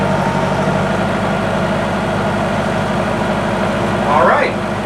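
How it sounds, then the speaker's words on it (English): Classic powerboat's onboard engine cruising at 1500 RPM, a loud, steady low drone from close by that runs continuously, with a brief faint sound near the end. "we're running at 1500 RPMs and this is the noise level. Remember, the engine is right there."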